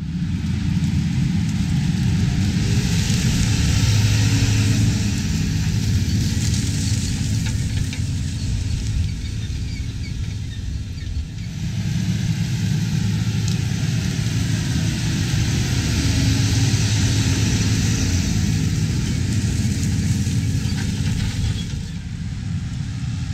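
Versatile 335 front-wheel-assist tractor pulling a Farmhand chisel plow, its engine droning steadily and loudly under load with a deep rumble, no talk over it.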